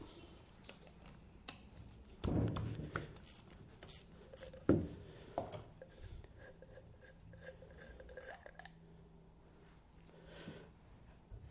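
A tool tapped against a tight bolt on a 50cc engine during valve adjustment, a scattered run of sharp metallic knocks and clinks, close and moderately loud, settling into quieter rattles and fiddling.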